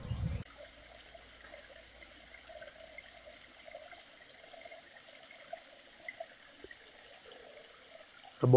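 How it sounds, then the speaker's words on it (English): A small stream trickles faintly and steadily through forest undergrowth, a soft continuous wash of water with a few light splashes, and no voices. "in the undergrowth here, on the side of a trickling stream"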